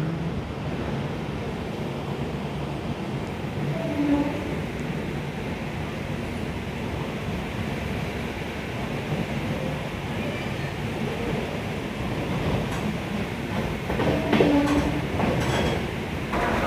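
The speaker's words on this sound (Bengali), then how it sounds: "আমাদের ট্রেন চলে এসেছে প্রতাপ এক্সপ্রেস" The 12496 Kolkata–Bikaner Pratap Express pulling into Dhanbad Junction, a continuous heavy rumble of rolling wagons that swells slightly near the end, with faint metallic squeals and station ambience.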